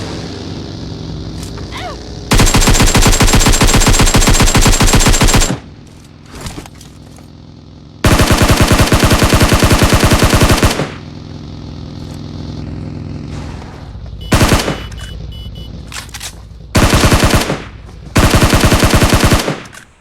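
Long, loud bursts of rapid automatic gunfire from the video game PUBG Mobile dominate, split by brief pauses and a few single shots, with no talk over them.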